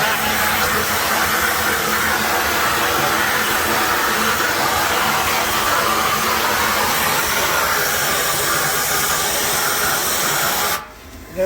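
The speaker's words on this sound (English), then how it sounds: "We have this type of vacuum here." A loud, steady rush of air hisses continuously for several seconds, like a powerful air-driven vacuum hooked to an airline in a tire shop, running up close, then cuts off abruptly.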